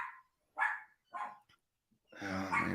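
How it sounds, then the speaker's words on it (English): Several dogs barking indoors during a live stream, giving a few sharp separate barks with gaps between them, then a longer, fuller bark or growl at the end, fairly close. "Now my dogs are barking."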